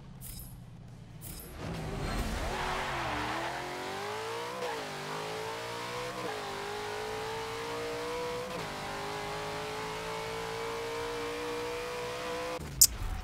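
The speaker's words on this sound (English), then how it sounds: "Let's just listen to how much better it revs" Car engine in Forza 7, a McLaren 720S or twin-turbo Dodge Super Bee fitted with an upgraded flywheel, revving hard and continuously, climbing in pitch through repeated rises and shifts, loud and close with no talk.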